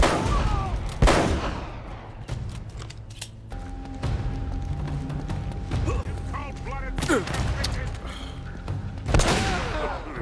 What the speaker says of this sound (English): And now I'm getting shot.